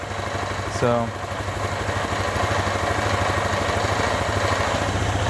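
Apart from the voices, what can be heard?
Vespa ET4 scooter engine idling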